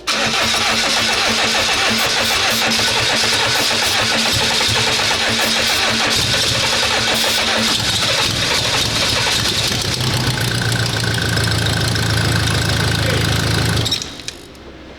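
A BMW with a seized engine is cranked and fires, the starter grinding steadily into a loud, rough running engine that cuts off abruptly near the end, heard up close with no talk.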